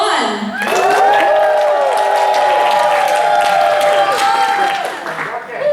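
Audience at an 18+ dating game show cheering and applauding loudly, a dense, sustained crowd roar of whoops and clapping that fades slightly near the end.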